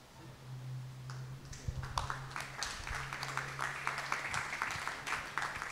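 An audience claps for a few seconds in a hall after an Aboriginal poetry reading. The applause is faint and scattered over a steady low hum.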